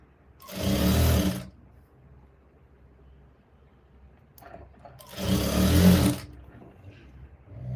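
A sewing machine runs a double stitch with a quarter-inch gap along blouse shoulder seams, in two loud, steady bursts of about a second each, separated by a quiet pause with faint handling noise.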